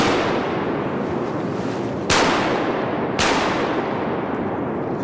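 Two loud shotgun blasts fired at a drake during a duck hunt, about a second apart, each sharp crack ringing out over steady outdoor background noise.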